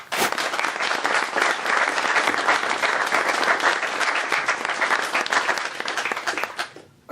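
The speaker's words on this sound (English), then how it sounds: "I want to give them a big round of applause." A big round of applause fills the room at a Trex company announcement of a new facility in Little Rock, Arkansas, loud and dense from start to finish before tapering off at the close.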